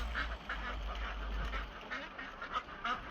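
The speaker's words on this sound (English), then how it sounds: "Follow the line of ducks." Ducks quack in short, soft bursts at a backyard duck pond, several calls scattered over a few seconds against a low, steady background hum.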